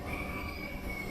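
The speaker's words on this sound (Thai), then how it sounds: "คอมเซรสเตอร์แอร์บ้านก็จะดังแบบนี้เลย" A home air conditioner compressor runs with a steady, close mechanical drone and a sustained high whine riding above it, unbroken and without voices.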